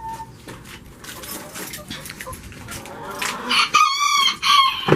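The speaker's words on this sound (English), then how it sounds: "There's chickens everywhere." Chickens in a coop cluck and murmur throughout, building into a loud, close rooster crow near the end, with a person talking over the birds.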